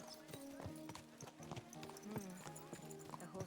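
A horse's hooves clip-clop on a road in the video game Kingdom Come Deliverance 2, a steady rhythmic trot of close hoofbeats with a voice speaking over them.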